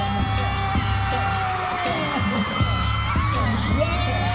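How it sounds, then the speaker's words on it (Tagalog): A large crowd at a meet-and-greet for volleyball player Ran Takahashi in a shopping mall screams and cheers loudly, with a continuous roar of high-pitched shrieks and whoops and some sharp bangs, an amplified announcer's voice briefly audible. "Yung malakas na tili, everybody!"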